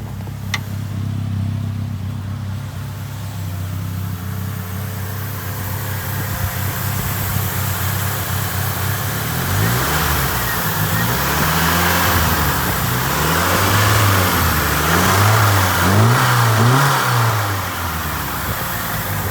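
A 1978 Fiat 124 Spider engine, running again after years sitting, idles close by and then revs repeatedly. Each swell rises and falls in pitch, and the blips quicken toward the end with no speech.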